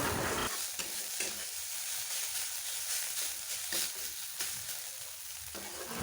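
Soft, steady sizzling and hissing from a hot pan cooking roti flatbread continues throughout, with faint scraping touches, no voices.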